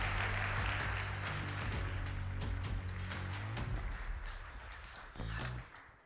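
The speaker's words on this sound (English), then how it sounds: "Big applause." Panel audience at a Europe Forward conference applauding to welcome panelists, a dense, even wash of clapping that thins out toward the end, with a low hum in the room beneath it.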